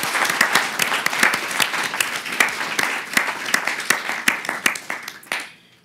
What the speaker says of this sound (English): Big round of applause for our students.